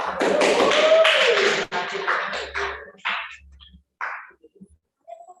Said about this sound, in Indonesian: Kasih tepuk tangan bersama.